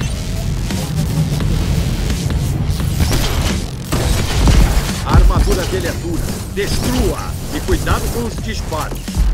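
Rapid bursts of gunfire in the video game Crackdown 3 crackle repeatedly amid mechanical clatter and booms, dense and loud, with talk mixed in.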